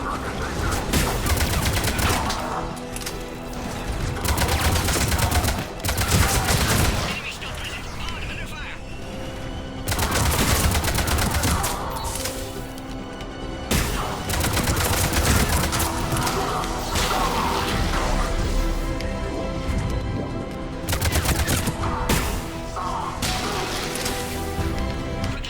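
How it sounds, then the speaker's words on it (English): Sustained gunfire in a firefight at a checkpoint in Mass Effect 3, dense bursts and rapid shots roll on almost without pause, loud and close, while voices shout over the combat. "The checkpoint is under fire!"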